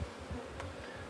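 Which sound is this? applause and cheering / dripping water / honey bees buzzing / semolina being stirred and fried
honey bees buzzing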